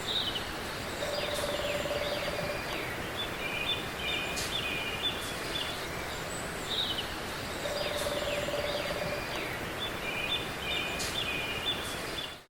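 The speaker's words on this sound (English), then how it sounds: "But anyway, you can hear the bird." An unidentified bird repeats a short call in a forest during an April camping trip, sounding fairly clear over a steady faint hiss that may be a distant river. The calls come in a loose repeating pattern and no one speaks.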